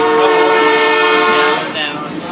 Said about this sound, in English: how do you like riding in the train?